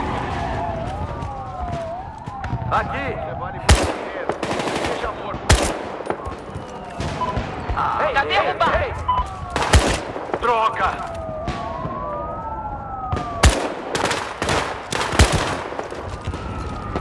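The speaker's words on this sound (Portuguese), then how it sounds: "que o tiroteio tá comendo solto" A gunfight in the video game Battlefield Hardline, with loud bursts of gunshots and automatic fire cracking repeatedly over wailing police sirens and vehicle noise, and a voice now and then.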